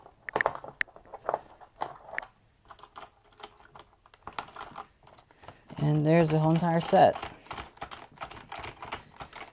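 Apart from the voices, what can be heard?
keycaps being removed and replaced on a mechanical keyboard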